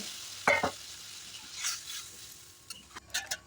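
Cauliflower, potato and egg cook in a pan with a little water, giving a soft sizzle broken by a few sharp spatula scrapes and clinks, fairly quiet overall.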